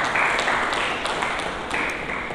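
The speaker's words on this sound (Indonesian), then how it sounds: "Kita berikan tepuk tangan bagi Yesus Kristus Tuhan" A church congregation gives a short round of applause during a Sunday service. The clapping is a dense, steady patter, heard from a moderate distance.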